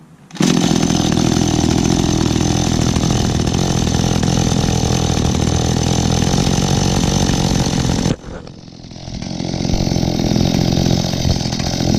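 An Echo or Stihl chainsaw that has sat unused for almost a year starts and runs loud and close at a steady buzzing pitch, drops briefly to a rough idle, then revs back up.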